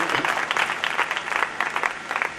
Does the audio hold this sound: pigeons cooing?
no